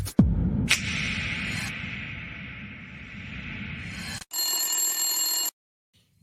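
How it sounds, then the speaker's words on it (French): Telephone ringing on a radio call-in show: a loud electronic ring tone with a bright, buzzing pulse, sounding twice across a few seconds before cutting off, with no talk over it. "Allô, Psypho, la parole est à vous."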